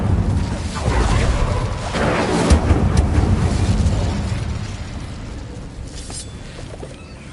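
Hogwarts Legacy's Incendio fire spell bursts out with a loud whooshing roar and crackling flames, then swells and slowly fades as the blaze dies down.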